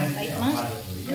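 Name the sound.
soup boiling on the stove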